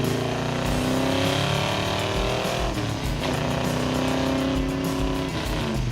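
A Red Duster muscle car accelerates up a highway on-ramp, its engine a loud, steady drone with rising harmonics shifting through the revs, continuous and close from inside the car.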